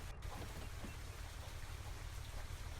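Steady rain in the farming video game Farming Simulator 25 makes a continuous dense patter with a low rumbling bed, even and unbroken, with no talking.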